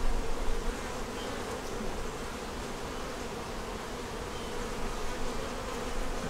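Honey bees buzzing at an open hive during a honey pull and queen check, a dense, steady close drone filling the whole stretch without any talking.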